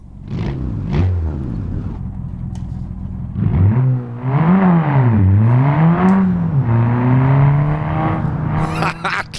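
Car engine in the BeamNG driving game, revving up and down in repeated swells with a raw, open-exhaust roar, loud and close, with faint voices at times.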